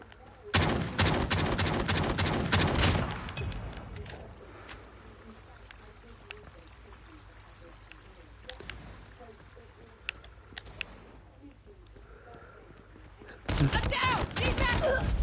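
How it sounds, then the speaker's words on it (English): Shotgun blasts in the mobile shooter COD Mobile: a rapid series of loud, close bursts, then a quieter stretch with scattered distant shots before another loud volley, as a voice talks over the gameplay. "Oh, that shotgun."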